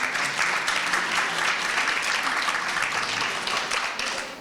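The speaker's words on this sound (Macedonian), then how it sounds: "Аплауз." A seated audience at a panel discussion on women's topics applauds warmly, a dense sustained wave of many hands clapping that holds steady for several seconds before easing slightly at the end.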